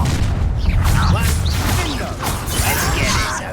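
The Confringo spell fires in the Hogwarts Legacy video game, a dense burst of explosive booms and crackling magical whooshes during combat, loud throughout with game character voices mixed in.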